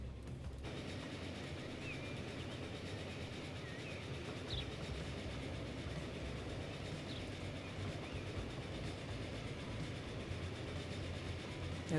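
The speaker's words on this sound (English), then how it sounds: "should we have a little look at the trains passing each other?" Trains in the Transport Fever 2 video game rumble steadily past one another, a dense continuous roar of rolling wagons with faint rail clatter and no breaks, filling the whole stretch at an even level.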